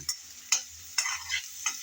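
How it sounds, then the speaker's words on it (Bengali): Onions sizzling quietly in a pan, stirred with a utensil in four or five distinct scraping strokes, close up and without talk. "পেঁয়াজ নেড়ে চেড়ে হালকা করে ভেজে নেব।"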